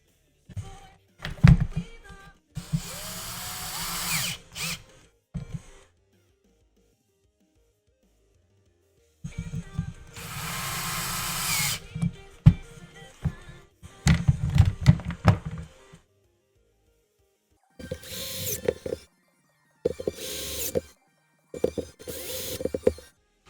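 A power screwdriver driving screws into a Traxxas 2WD RC car transmission, several loud bursts of whirring separated by silences, close up with no speech.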